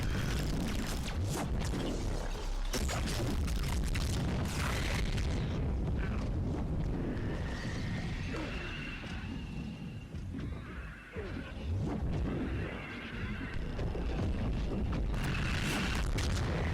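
Cluster grenades explode in Mass Effect 3 multiplayer combat, producing a dense, loud roar of overlapping blasts and crackling impacts that continues almost without pause, with a brief dip near the middle.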